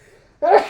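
A single short, loud sneeze bursts out after a moment of near silence, close to the listener.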